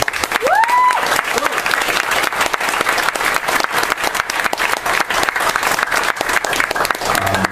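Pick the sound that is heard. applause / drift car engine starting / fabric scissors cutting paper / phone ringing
applause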